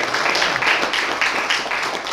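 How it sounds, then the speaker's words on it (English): Congregation clapping hands in praise at a church service, a dense, continuous wash of applause from many people filling the room for about two seconds. "Give yourselves a hand clap of praise."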